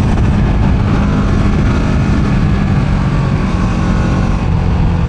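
Loud, continuous engine roar from a Kawasaki Z650 RS motorcycle being ridden, a dense steady drone with wind rush and no pauses.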